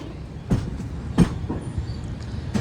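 A passenger train running on the Konkan Railway near Vaibhavwadi, heard from inside a coach as a steady low rumble with a few sharp clacks of wheels over rail joints, no talking.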